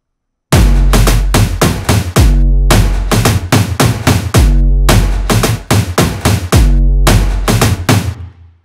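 Latin trap beat in Studio One with layered drums and a booming bass drop sample: loud, dense hits in a repeating syncopated pattern over deep sustained bass, played alone for about eight seconds.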